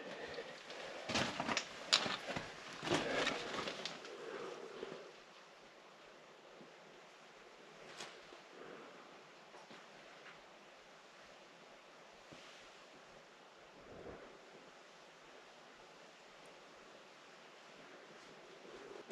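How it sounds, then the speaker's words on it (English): Water splashes and washes through a cave in a video game. The rushing surges come in a cluster early on, then fade to a quiet, hollow ambience with occasional faint splashes. "I think I hear water down there."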